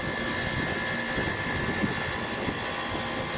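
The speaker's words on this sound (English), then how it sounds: "you can see that my compressor is running" An air conditioner condensing unit with its compressor running and the fan motor not turning, giving a steady, even mechanical drone that stays constant and unbroken throughout, with no voices.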